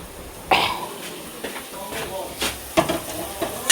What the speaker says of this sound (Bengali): একটু জলের ছিটা দিয়ে কষাবো।